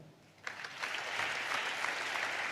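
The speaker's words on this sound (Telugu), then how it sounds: "చప్పట్లు కొడతాం." A church congregation breaks into clapping after a short quiet moment, the applause swelling quickly into a dense, even patter that holds steadily to the end.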